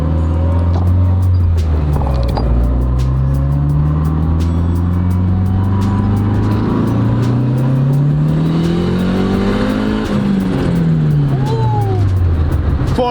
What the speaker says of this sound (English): I'm gonna do one little mini pool inside so you can see how it sounds.